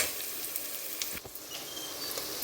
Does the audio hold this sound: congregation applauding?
no